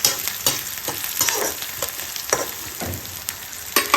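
Fenugreek leaves fry with garlic and asafoetida in a pan: a continuous close sizzle broken by repeated spatula scrapes and light clinks at an uneven rhythm.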